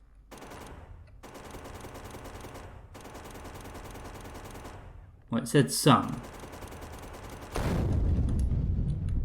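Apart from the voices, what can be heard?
gunfire in a video game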